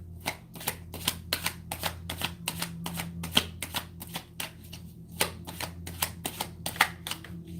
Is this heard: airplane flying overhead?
no